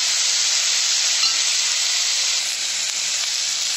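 Onions frying in a pan for a malai matar paneer masala give off a steady, even sizzling hiss close by, with no talk over it.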